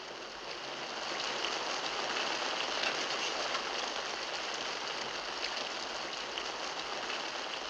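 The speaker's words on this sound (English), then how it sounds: "It's raining outside." Rain falls outside in a steady, even hiss that holds at a moderate, fairly distant level throughout, with no voices over it.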